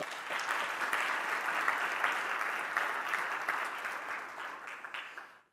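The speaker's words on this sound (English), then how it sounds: "Give it a big round of applause." Public economics conference audience applauding as the opening is declared, a dense, even roar of many hands clapping that holds steady for several seconds before tapering off at the close.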